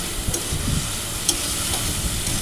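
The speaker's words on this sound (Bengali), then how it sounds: "চিংড়ি মাছগুলো দেখছো ভালো করে ভাজা ভাজা হচ্ছে" Prawns frying in a pan make a close, steady sizzle with soft crackles and a few stirring knocks throughout the brief moment.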